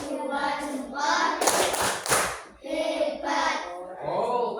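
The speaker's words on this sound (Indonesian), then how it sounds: "Tepuk jempol." Children in a second-grade class chant a thumb-clapping rhyme, with a short cluster of sharp claps in the middle of their sing-song voices.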